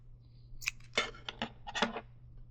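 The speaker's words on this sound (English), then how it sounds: "We're going to snip the colors again." Scissors snip through crochet yarn at the end of a colorwork wave trim, several short crisp cuts in a quick irregular cluster, close and fairly quiet with no talking.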